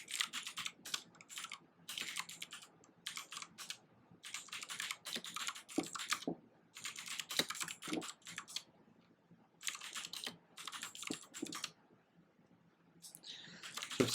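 Someone types code on a computer keyboard nearby, quick bursts of key clicks separated by short pauses, faint and close in a quiet room.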